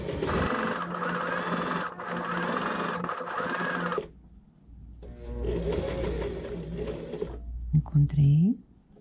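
A sewing machine stitches fabric for a scissor holder, running loudly and steadily for about four seconds, pausing, then stitching again in a quieter run before a few short bursts, with a voice speaking in between.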